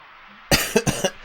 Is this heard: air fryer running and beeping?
no